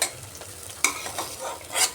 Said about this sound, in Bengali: পেঁয়াজগুলো ভাজা ভাজা হয়ে গেছে, এগুলাকে এখন আমি নামিয়ে নিচ্ছি।